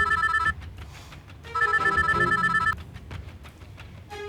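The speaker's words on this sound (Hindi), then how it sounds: "माँ, मामा जी का फोन आ रहा है।" An incoming call makes a telephone ring in two loud, bright bursts of trilling rings, separated by a short pause, with a third burst starting at the end.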